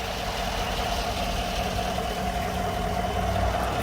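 A 2016 GMC Sierra SLE Z71 4x4 Double Cab pickup idles steadily, a close, even engine drone with a low rumble and no revving and no voices.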